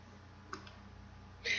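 Two quick, faint clicks of a computer mouse in a quiet room, a soft tap followed about a second later by a sharper click, with no talking.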